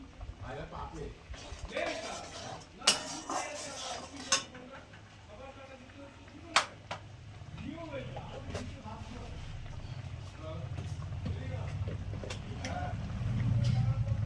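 Metal utensil scraping and clinking in a cooking pan as salt, turmeric and sugar are stirred into a spice masala for a soybean curry with potato and cauliflower, with sharp taps, a rising sizzle toward the end and a voice at times.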